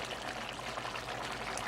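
Spiced sauce is poured over oxtail meat for a Jamaican oxtail dish, a steady close wet pouring stream that runs evenly without a break.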